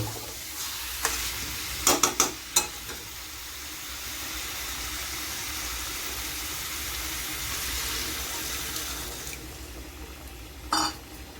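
Mutton curry with spices simmers in a pan after a little water is added, giving a steady hiss and bubbling, with a few metallic knocks of a spoon on the pan near the start and end.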